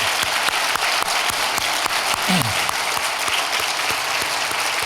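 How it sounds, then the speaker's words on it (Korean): A church congregation applauds to welcome visiting pastors from Taiwan, with steady, dense clapping filling the room throughout. "여러분 박수로 맞이해 주시기 바랍니다"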